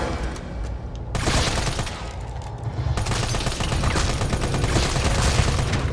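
Rapid bursts of gunfire from the Resident Evil 3 Remake video game, loud and sustained, with dense repeated shots building after a brief quieter opening, alone without talk.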